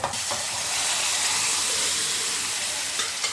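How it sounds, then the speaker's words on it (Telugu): Cutlet mixture frying in oil in a pan makes a dense, loud, continuous sizzle and hiss, with a couple of sharp clinks at the start and near the end. "ఆయిల్ పైకి తేలేదాకా ఫ్రై అవ్వాలి చక్కగా"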